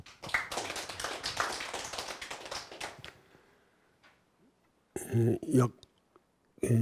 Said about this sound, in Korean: 박수로 공정원 의원님을 마주해 주시기 바랍니다